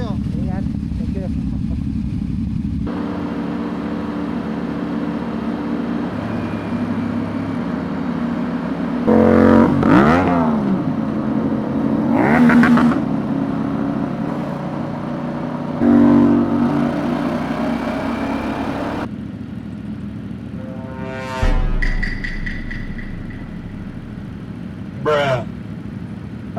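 A CFMoto 450CLC 450cc motorcycle at a riders' gathering in J Farm, Cavite revs in a few short sharp bursts over a steady engine drone, with people chatting nearby throughout.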